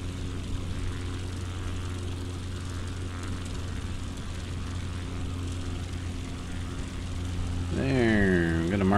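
Steady propeller drone of a bush plane in Flight Simulator 2020, flying in moderate weather, holds level and constant, then rises near the end as the throttle is worked and the engine pitch sweeps and shifts.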